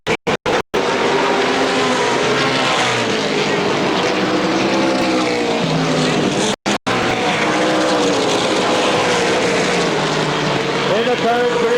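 Race cars howl around Motordrome Speedway in heavy lap traffic, a loud continuous engine drone with shifting pitches from several cars at once, briefly cut twice, under a commentator's voice.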